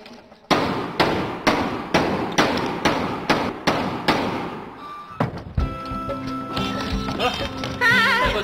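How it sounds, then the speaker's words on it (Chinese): A hammer pounds nails into an old window frame that will no longer shut, about a dozen steady, loud blows in a row, followed by scuffling and clatter. "拿锤子来，我给钉死了。"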